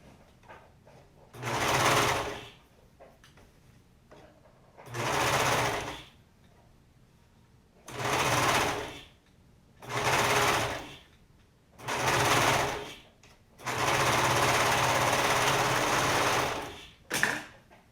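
A sewing machine sews a sleeve into a Sharkbite dress in six close bursts of stitching separated by short pauses, the last burst longest, ending with a brief sharp click.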